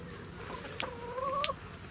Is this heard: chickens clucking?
yes